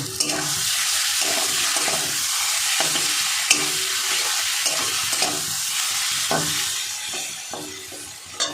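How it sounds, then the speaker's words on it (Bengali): Mustard, chili and salt paste being stirred into a frying pan of chili for a prawn and lati chachchari, with steady sizzling and spoon scrapes that come in irregular taps over the whole stretch. "সর্ষে লঙ্কা লবণ দিয়ে যেটা বাটা ছিল সেইটা দিয়ে দেবো, দিয়ে মিশিয়ে নেব"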